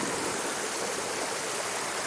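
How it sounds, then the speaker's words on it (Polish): A mountain stream rushes steadily in Mała Fatra, Slovakia, a dense, even wash of flowing water close by with no voices. "rzeka, rzeczka, potok."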